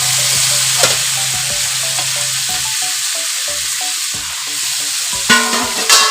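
Boiled figs hit a pan of frying masala and get stirred, a bright steady sizzle broken by repeated clinks and scrapes of a spoon, close and fairly loud.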